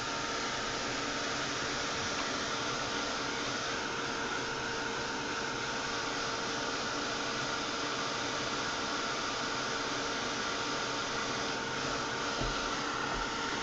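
A hair dryer blows steadily at close range to dry resin on a handmade journal cover, its broad whooshing hiss constant and unbroken for the whole stretch, with no talking over it.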